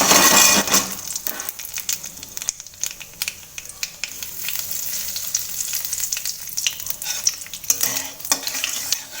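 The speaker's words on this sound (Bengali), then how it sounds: "তো আমি তেল গরম হওয়ায় শুকনো লঙ্কা দিয়ে নিয়েছি।" Dry red chillies crackle and sizzle in hot oil for a water spinach dish, with loud bursts at the start and repeated sharp scrapes and taps of stirring throughout.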